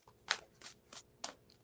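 An oracle card deck is shuffled by hand in four short papery riffling bursts, quiet and close, with no talking.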